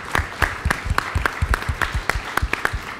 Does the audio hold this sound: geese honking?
no